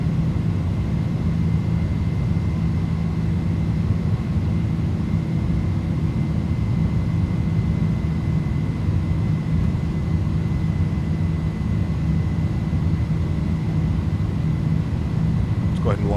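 An iniBuilds Airbus A310 jet in Microsoft Flight Simulator climbs after takeoff with a loud, steady engine roar and whine that holds unchanged throughout, while a voice speaks over it.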